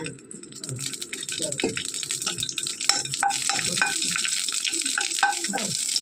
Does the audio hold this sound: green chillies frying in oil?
yes